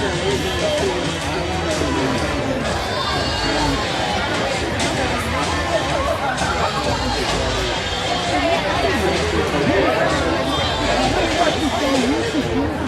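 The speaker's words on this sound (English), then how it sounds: "Got a good crowd. Expected as much. Yeah, it's a nice crowd here." Steady crowd chatter fills an indoor volleyball tournament venue, a dense, continuous hubbub of many voices with nearby talk mixed in throughout.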